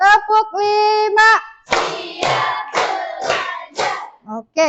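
Standing group doing a call-and-response clapping ice-breaker in a classroom session: a leader's voice alternates with bursts of quick rhythmic hand claps and chanted group responses, close and loud.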